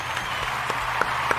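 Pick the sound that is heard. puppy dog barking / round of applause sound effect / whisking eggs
round of applause sound effect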